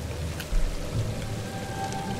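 Steady rain from the video game The Sinking City hisses continuously, with a soft low thump partway through and faint tones in the background, and no talking.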